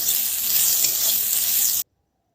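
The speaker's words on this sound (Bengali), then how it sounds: "পেঁয়াজ কুচিয়ে রেখেছিলাম সেগুলো দিয়ে দিলাম। এবারে ভেজে নেব ভালো করে, লাল করে ভেজে নেব।" Chopped onions sizzle steadily in a wok as they are stirred, a loud, close, continuous hiss that cuts off abruptly near the end.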